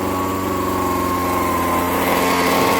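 A small Ryobi chainsaw engine runs steadily at high revs, a loud, buzzy, constant whine close by without a break, nobody speaking over it.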